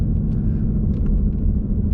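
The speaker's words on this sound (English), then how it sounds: "this performance exhaust sounds great already" Deep, steady exhaust rumble from a Ford Mustang GT with a performance exhaust, a continuous low idle-like drone held close and loud with no talk over it.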